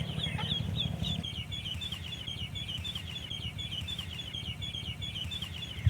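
Several chickens cluck and chatter softly at a moderate distance, a continuous busy murmur of calls over low background noise.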